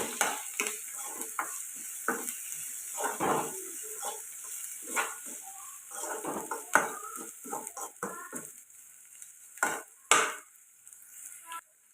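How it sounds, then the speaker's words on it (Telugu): Onions with curry leaves fry in a pan for an egg curry, giving a steady faint sizzle broken by scattered scrapes and clinks of stirring, with no voices. "ఉల్లిపాయలు బాగా ఫ్రై అవ్వాలి ఇలా ఫ్రై అవుతాను కదండి ఇప్పుడు ఇందులోకి వచ్చేసి కరివేపాకు ఉల్లిపాయలు బాగా మగ్గాలి"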